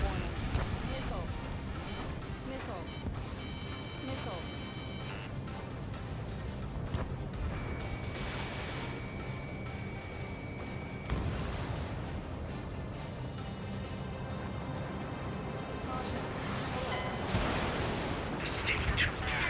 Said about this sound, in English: You've been directly hit by a missile.